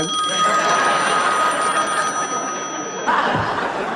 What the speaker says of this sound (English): the phone would start ringing